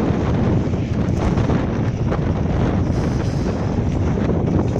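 Stormy wind blowing hard by the water, a loud, constant roaring gust buffeting the microphone without pause for the whole stretch.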